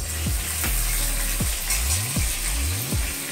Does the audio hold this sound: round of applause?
no